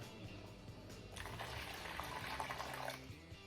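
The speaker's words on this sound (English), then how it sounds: "Third step, add 4 cups of water." Water pours steadily into a bowl with a soft, splashy rush, close and fairly quiet, running continuously, while mixing banana fritter batter.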